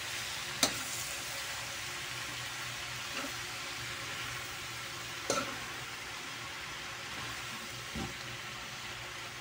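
Pechay sautéed with pork in a pan, a soft continuous sizzle with a few sharp clinks of a utensil against the pan, no talk.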